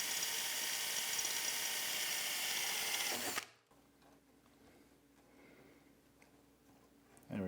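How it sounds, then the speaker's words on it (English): A power drill bores a screw hole through a metal bracket on a planer setup, loud and steady for about three seconds before abruptly stopping, then quiet workshop room tone with a short burst at the end. "So we're going to be drilling a hole right here for that screw to attach."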